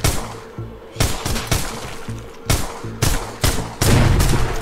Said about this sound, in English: Oh, I shot a barrel.